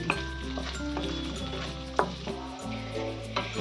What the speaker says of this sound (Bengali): এখানে দেখুন আমি কিন্তু আলুগুলোকে বেশ হালকা করে ভাজা ভাজা করে নিয়েছি